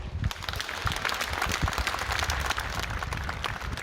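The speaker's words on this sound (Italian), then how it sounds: "Facciamo anche un applauso alle forze dell'ordine" A crowd outdoors in a town square applauds the police during a peaceful masked protest flash mob, a dense steady clapping sustained throughout.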